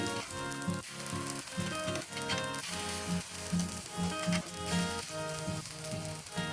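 Batter made from drumstick leaves and Gobindobhog rice sizzles steadily in a pan, with a soft, even crackle under a layer of tonal background sound.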